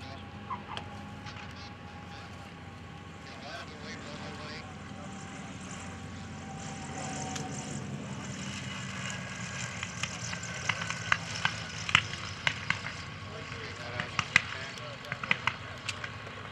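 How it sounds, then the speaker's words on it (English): A distant North American P-51D Mustang propeller aircraft engine drones steadily, its roar swelling slightly as it passes, with crackling and popping at the end. "Yeah, that's a Mustang."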